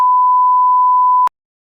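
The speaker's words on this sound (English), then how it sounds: "We can beep it out." A single steady censor bleep, a pure electronic tone held for just over a second and cut off sharply, standing alone with no talk over it.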